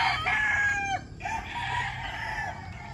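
A rooster crows loudly and close by at a poultry farm among native and mestizo chickens, its harsh call sweeping down in pitch, with hens clucking around it and a steady background din.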